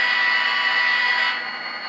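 Horn of an HO scale DCC model train engine: a steady, bright tonal blast lasting just over a second, then trailing off into a softer sustained tone, heard alone and close.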